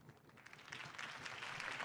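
Crowd applause rises at a political campaign speech in Batman: The Telltale Series, a soft distant clapping swell that grows slightly louder over two seconds.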